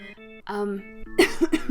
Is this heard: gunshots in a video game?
no